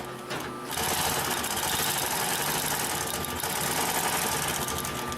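A Consew 744R-30 long arm walking foot sewing machine stitching through many thick layers of marine fabric runs with a steady, loud, fast mechanical hum and rapid needle knocking, close up and continuous.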